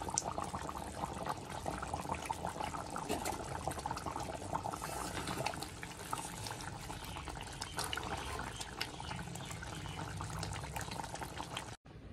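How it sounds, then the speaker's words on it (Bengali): Chicken curry broth bubbling in a pot, a steady, soft, continuous burble of boiling liquid with no talk, ending with a brief knock. "শুধু মাংস ফোটাটা দেখো তোমরা, চিকেনের ঝোলটা কেমন করে ফুটছে"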